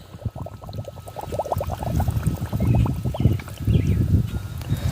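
Steady bubbling and gurgling as air escapes from a potted spirea plant held under water, a dense stream of small bubbles rising and popping close up, growing fuller after the first second.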